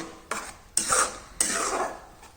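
Spatula scraping and clattering in a pan while a soybean and leftover chapati mixture is stirred, with three sharp scrapes over a softer continuous rubbing, close and fairly quiet.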